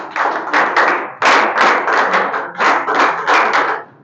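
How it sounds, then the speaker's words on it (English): Class of English learners clapping for a classmate after his practice talk: loud, close bursts of hand claps in three rough waves, each swelling and fading, with no talking over them. "Clap for him."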